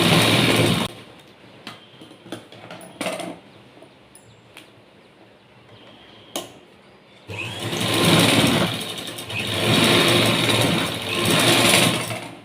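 Sewing machine running along a folded quarter-inch blouse edge, brief handling ticks at first, then a loud steady whir that swells and holds for several seconds with a short dip midway.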